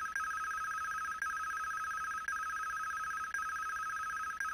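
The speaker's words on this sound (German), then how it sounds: "Was für ein ekelhafter Klingelton." A telephone ringtone in the video game Police Quest 3 rings in an even, repeating electronic trill, about one pulse per second over four or five cycles, clear and alone.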